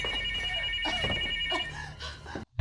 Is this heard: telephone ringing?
yes